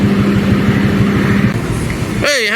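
A SYM 250i EVO motorcycle ridden slowly on the road, its engine thrumming with a steady low pulsing, then a voice breaks in near the end.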